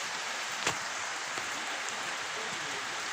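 Steady broadband hiss of rain pouring down during a thunderstorm, with a few sharper drops or splashes standing out near the start.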